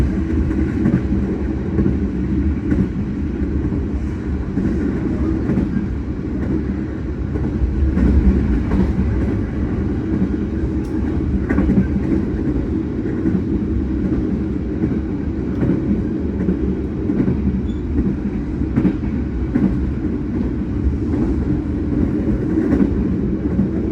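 A long-distance passenger train runs steadily in Indonesia, heard from inside as a continuous low rumbling roll with faint rhythmic rail clatter, loud and unbroken throughout.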